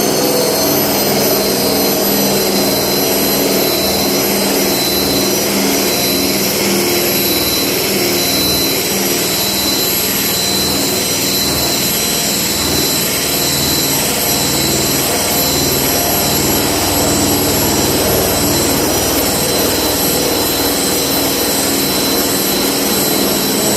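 An electric drill drives a removal tool on a Hellcat Daytona, making a loud, continuous high whine and roar with grinding texture that stays steady and close throughout.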